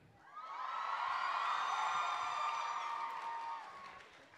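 A single audience member at a live VidCon show lets out a long, loud, high-pitched scream, rising quickly, holding for about three seconds and then fading, with faint crowd noise underneath.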